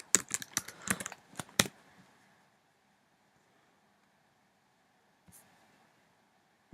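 Code being typed on a computer keyboard: a quick burst of clustered clicking keystrokes for about two seconds, then near silence with a single faint tap later on.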